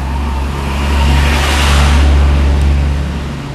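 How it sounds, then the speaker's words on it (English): A city bus rumbles past on a street, its engine swelling louder toward the middle and easing off, a broad steady roar close by with a low hum underneath. "We're about to be passed by a city bus."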